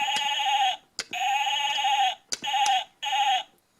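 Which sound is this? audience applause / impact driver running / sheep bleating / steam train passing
sheep bleating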